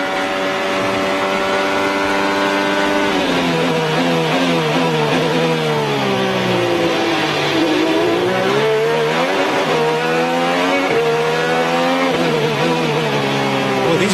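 IndyCar race car engine heard onboard with Graham Rahal at Toronto, a loud, close, high-pitched whine sweeping up through gears and dropping under braking, running continuously without speech.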